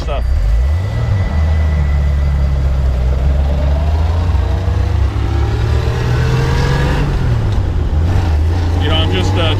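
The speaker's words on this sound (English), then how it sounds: "You know, I'm just driving it now." A 1983 Jeep CJ5 with an AMC engine being driven, a loud steady engine drone that rises and falls with gear changes, close and continuous with someone talking over it.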